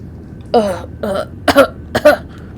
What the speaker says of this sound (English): Sorry, my coughs must be pretty loud.